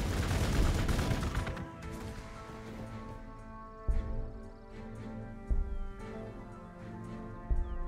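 A heavy burst of gunfire from Warhammer 40k Gladius opens loud and dense, then fades into a humming tonal background punctuated by three sharp, evenly spaced shots.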